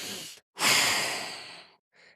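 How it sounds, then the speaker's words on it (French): A single deep, long exhale of breath lasting over a second, close and breathy, with a short softer breath before it and another after. "expire dans cette zone et ouvre-la"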